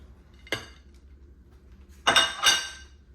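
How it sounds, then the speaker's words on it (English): Metal utensils clink and scrape against a pan as bacon is tossed into orecchiette with cauliflower, parsley and cheese: one sharp clatter, a pause, then two close, louder clanks near the end. "toss in that bacon"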